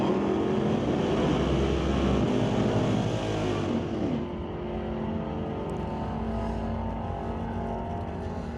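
A drag race car roars down the Mission Raceway strip at an NHRA Northwest National Open Series event, a loud engine run that fades after about four seconds into a lower, distant rumble.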